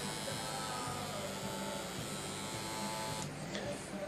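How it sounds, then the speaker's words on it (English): A motor controller produces a simulated motor vibration noise, a steady buzzing hum with a faint rhythmic pulsing that runs throughout at a constant level. "to simulate the motor vibration, which is something I'll have to filter out"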